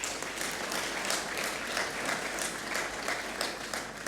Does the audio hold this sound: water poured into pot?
no